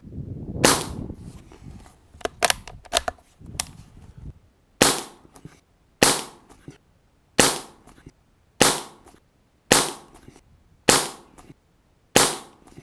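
A Hammerli 850 .22 CO2 air rifle fires about ten sharp, loud reports of 14.2-grain hollow point hunting pellets, spaced at a steady pace. Each crack is followed by a short decay, with some handling noise before the first shots.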